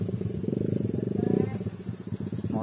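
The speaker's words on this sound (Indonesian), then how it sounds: "motor warga ini lewat" A local resident's motorcycle passes along a village road, its engine chugging in close, even pulses, while people talk over it.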